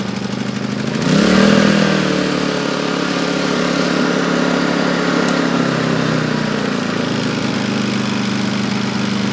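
Honda EU22i inverter generator pull-started with the choke on, catching with a rising surge and then settling into a steady, loud running drone close by.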